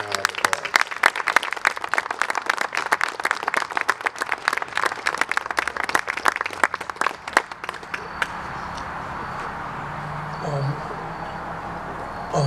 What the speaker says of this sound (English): may we greet them with a hearty thank you with a round of applause